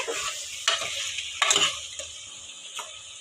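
Chicken curry being stirred in a pan, with a steady sizzling hiss of frying broken by several sharp scraping strokes of the spoon, close and moderately loud, with no talk.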